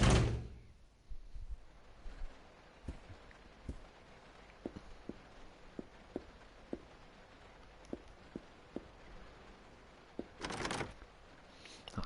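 Locked conductor's office door being tried in the video game Resident Evil Zero, giving a series of short, sharp rattling clicks and knocks at an irregular pace, fairly close and clear over a quiet background, with a louder burst near the end.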